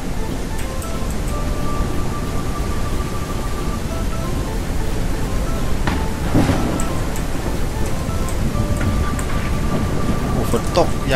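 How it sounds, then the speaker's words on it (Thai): Heavy rain pours steadily in the Ranch Simulator video game, a loud, continuous wash with occasional thunder cracks and rumbles breaking through near the middle and end. "โอ้ฝนตกอย่างแรง"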